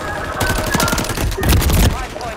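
Rapid automatic gunfire from a Call of Duty match, a dense, loud burst of shots that swells midway and rolls on for a couple of seconds with no talk over it.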